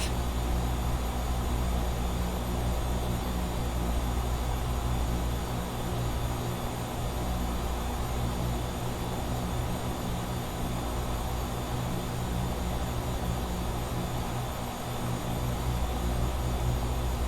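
Twin propeller engines of a Realair Duke in a flight simulator drone steadily in cruise, a dense, constant roar with no pauses and no voices.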